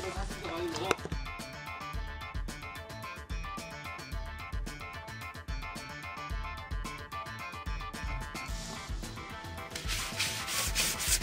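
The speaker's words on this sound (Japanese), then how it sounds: "ホイールを洗いたいと思います。" Steady brisk scrubbing of a car's aluminium wheel with detergent, a dense rhythmic rubbing close up that runs throughout, with a brief sharper knock near the start.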